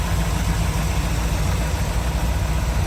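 A 1964 Chevrolet Corvette coupe's 327 V8, a 365-horsepower four-speed manual car, idles close by with a steady, rumbling low throb and a faint busy ticking from its lifters, with no talking.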